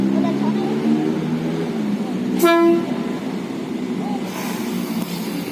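Manahan passenger train in Indonesia moving slowly past a red signal, a steady low rumble of cars with a brief horn toot midway, heard close from trackside.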